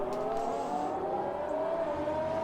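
A Renault Formula 1 car in a racing video game at the Chinese Grand Prix hums with a steady, high engine drone as it begins a flying lap, holding a sustained pitch throughout with no voices.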